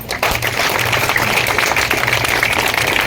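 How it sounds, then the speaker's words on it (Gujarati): Audience at a film premiere applauding to welcome guests, a dense, steady wash of clapping throughout, fairly loud with no speech. "આપણે બધા પ્રીમિયરમાં જવાનું છે ફિલ્મને નિહાળવાની છે અને આપણી જ વાર્તા છે તો પ્લીઝ અમને જે છે વેલકમ કરીએ જોરદાર તાળીઓ સાથે"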